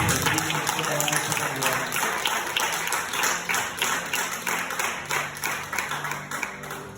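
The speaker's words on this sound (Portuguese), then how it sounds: "que as palmas louvem a Jesus" A church congregation claps in praise during a midweek prophetic service: many hands beat a steady, even rhythm over a sustained background tone, keeping the same pace throughout.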